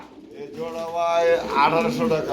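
Pigeons kept in a coop for sale, cooing in low, repeated throaty calls. Someone talks over them throughout.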